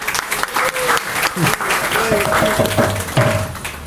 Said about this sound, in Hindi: थोड़ा सा ताली बजाइए।